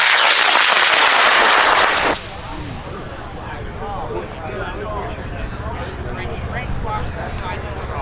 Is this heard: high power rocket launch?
yes